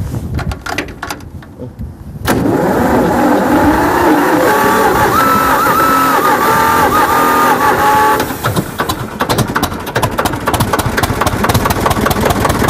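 An old machine's engine cranks briefly, then catches and runs loudly with a steady, rough idle before settling to a slightly quieter running rhythm.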